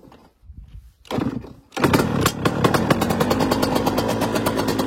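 A 2009 KTM 85 SX dirt bike's cold two-stroke engine coughs briefly, then catches and settles into a loud, buzzing run close by with rapid firing pulses and no talk.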